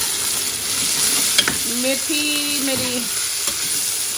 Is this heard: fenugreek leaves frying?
yes